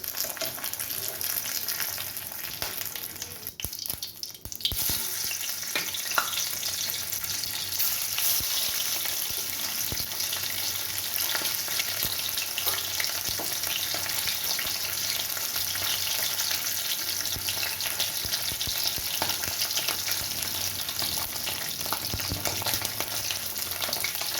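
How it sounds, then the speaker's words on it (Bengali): Hilsa fish sizzles in hot oil with a dense, loud, continuous frying hiss and crackle, broken briefly by a clatter early on, then holding steady to the end. "এইভাবে আমি বাকি মাছগুলো ভেজে নেব"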